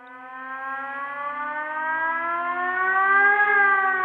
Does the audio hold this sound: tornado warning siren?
yes